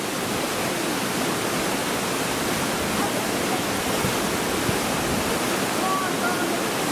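Broad, steady roar of falling water at the Honey Waterfalls in Karachay-Cherkessia, constant and fairly loud throughout with no break, with a few faint tonal chirps near the end.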